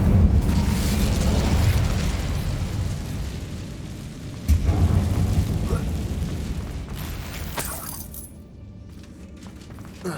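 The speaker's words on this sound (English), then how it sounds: "Incendio!" A fire spell cast in the video game Hogwarts Legacy bursts out as a loud, roaring blast that swells, fades, then flares again midway before trailing off under game ambience.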